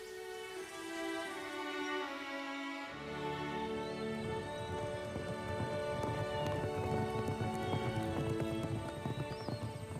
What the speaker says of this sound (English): Emma's horse set off at a gallop.